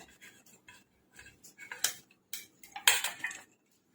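Finely chopped carrot and capsicum for veg momos are tipped and scraped together in a large vessel, giving short metallic clinks and rustling scrapes, close and quiet with no speech.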